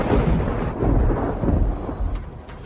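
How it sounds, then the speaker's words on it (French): Heavy rain pours down in a steady, dense roar with low rumbling beneath, loud and close, with no voices over it. "Il pleut, Siming."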